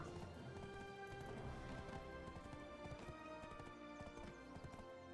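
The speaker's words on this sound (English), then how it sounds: "I have the horse here." Horse hooves clip-clop in the Black Desert video game as a mount travels through a city, a quick steady trotting rhythm with a brief whinny, over a continuous layered game soundtrack.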